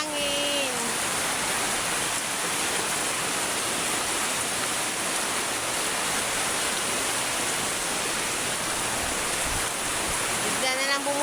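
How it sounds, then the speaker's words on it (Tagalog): A sudden downpour lashes down with strong wind, a loud unbroken wash of rain and gusting noise, with a faint voice briefly audible at the start and end. "Bigla na lang bumuhos ang ulan,"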